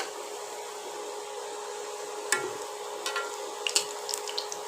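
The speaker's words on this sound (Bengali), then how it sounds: "বন্ধুরা দেখুন তেল গরম হয়ে গেছে। এবার আমি বড়াগুলো ছেড়ে দিয়েছি।" Potato and semolina pakoras frying in hot oil on a low flame, a steady soft sizzle with a few brief crackles and pops, close and continuous with no talking.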